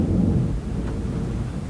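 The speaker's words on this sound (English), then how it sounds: "plus a thunderstorm." Thunder from a thunderstorm sounds as a deep, fairly loud rumble that swells at the start and trails off into a softer, steady roar, alone without voices.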